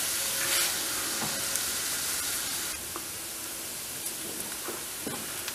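Onions, celery and minced garlic frying in a soup pot, a steady loud sizzle and hiss heard up close, slightly quieter after midway, with a few faint clicks from stirring and no talk.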